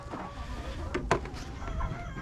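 A chicken clucks on a farm, a few short close calls rising over low background rustle and faint ambient noise.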